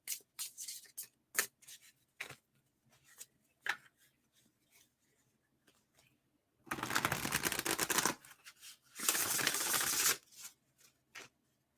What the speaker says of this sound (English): I've been shuffling and I haven't pulled a card yet.